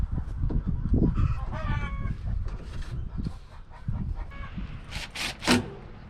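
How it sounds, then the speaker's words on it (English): Backyard chickens cluck steadily and a rooster crows near the end, with several birds calling close by and overlapping in a busy, continuous chorus outdoors at a septic system install site. "My audience today is the chickens"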